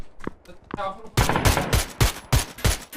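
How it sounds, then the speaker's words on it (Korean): Rapid bursts of PUBG: Battlegrounds gunfire crack in quick succession, loud and close, after a few moments of voices talking. "뒤에 아직 총소리 나"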